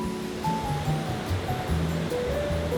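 Ocean waves break on a Sydney surf beach in Australia, a steady broadband wash of surf holding at even loudness throughout, with faint tonal music-like lines drifting above it and no talk.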